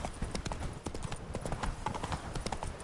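Roach, a horse in a video game, gallops with rapid, rhythmic clip-clop hoofbeats that stay close and steady through the whole short stretch, with no talk over them.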